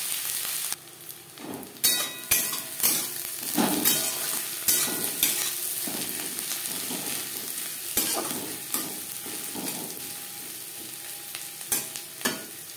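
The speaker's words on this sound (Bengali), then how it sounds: "পেঁয়াজ লালচে করে ভেজে নেব।" Chopped onions fry in hot oil in a pan with a steady close sizzle, while a spatula stirs and scrapes in repeated sharp strokes over it, with no talking.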